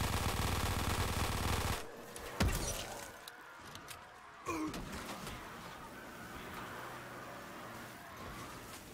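Rapid minigun fire from the Death Machine in Black Ops 3 zombies, a dense burst at the start that cuts off, followed by scattered shots and game noise.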